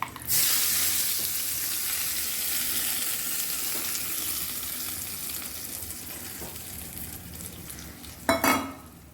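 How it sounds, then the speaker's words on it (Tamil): Hot tempering is poured into brinjal chutney, setting off a loud, steady sizzle and frying hiss that slowly fades, then a brief clatter of utensils near the end; no one speaks. "தாளிப்பு ரெடி ஆகிட்டு இப்போ வந்து எடுத்து அதில் ஊற்றிக்கலாம் சட்னியில்"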